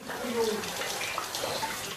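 Hot water runs steadily from a tap in a mobile field bathhouse brought to a front-line area, a continuous splashing hiss with faint voices underneath.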